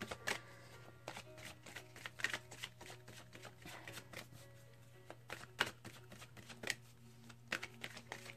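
Gateway Oracle Cards by Denise Lynn being shuffled up close, a quiet run of rapid papery riffles and soft slaps in uneven bursts over a faint steady hum.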